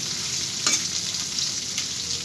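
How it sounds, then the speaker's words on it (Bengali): Steady hissing sizzle of fish frying in hot mustard oil, a continuous close crackle with a brief louder spatter partway through. "আমি ভালো করে মাছটা ভেজে নিচ্ছি"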